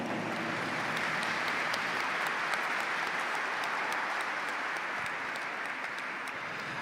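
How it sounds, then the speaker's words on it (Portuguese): A large congregation applauds steadily for Canção Nova during a Mass at a Pentecost congress, dense sustained clapping filling the space without pause and holding at an even, loud level throughout. "Vamos aplaudir a Canção Nova."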